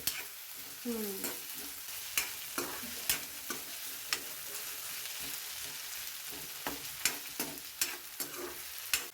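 Chopped onions sautéing in oil with mustard seeds in an iron pan, a continuous sizzle broken by regular sharp clinks and scrapes of a spatula stirring.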